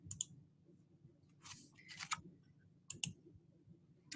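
Computer mouse clicks in a quiet room, a few sharp, close clicks spaced irregularly, some in quick pairs, with faint background hum and no talk.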